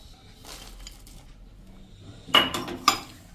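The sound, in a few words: adding chopped almond pieces into pan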